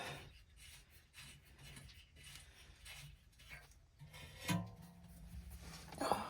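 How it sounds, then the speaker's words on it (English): Dirty bolts from a Cummins X15 truck engine rebuild are wiped clean with a rag, producing rhythmic rubbing strokes and faint metallic clinks, close and fairly quiet. "We're gonna wipe all these guys off real quick."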